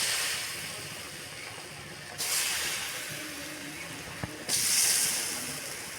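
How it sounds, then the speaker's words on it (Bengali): Puli pitha dumplings fry until crispy in hot oil, with a low hiss that swells into louder bursts of sizzling twice as more dumplings hit the pan. "তো এখন পিঠাগুলো ভেজে নেই।"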